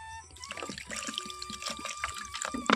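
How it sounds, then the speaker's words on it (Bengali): A hand mixes water and milk with soaked nuts in a bowl for a milkless paneer, making close, soft sloshing and trickling splashes that swirl continuously for a few seconds. "এখন হাত দিয়ে জল আর দুধ খুব ভালো করে মিশিয়ে নেব।"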